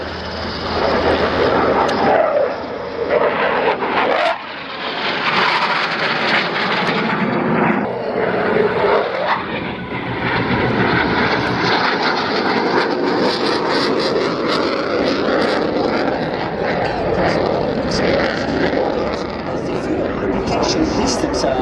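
Military aircraft roar loudly and continuously overhead at an international air tattoo, with a passing engine sweep early on and an announcer's voice running beneath the noise throughout.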